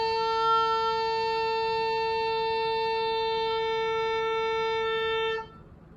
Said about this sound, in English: You're going to get a note that'll sound like this.